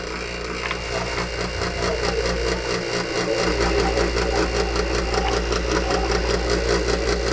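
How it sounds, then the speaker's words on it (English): A refrigeration vacuum pump hooked to a system runs continuously, a loud, steady mechanical drone with a fast regular pulsing chug and no voices. "now we turn on the vacuum pump"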